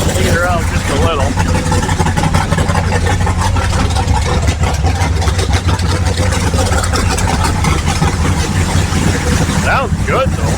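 1955 Chevy with an untested tunnel ram engine driving, a loud, constant rumbling engine drone heard from close up throughout, with voices talking over it.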